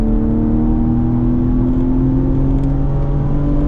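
BMW M3 at speed on the Indianapolis Motor Speedway road course, a steady loud engine drone with sustained harmonic tones holding near-constant pitch and slightly rising, close and continuous throughout, with no talking.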